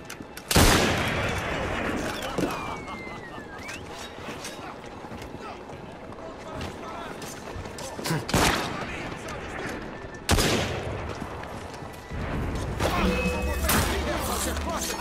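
Gunfire in Assassin's Creed Syndicate: scattered shots and volleys crack at intervals against a busy background, with voices talking and shouting throughout.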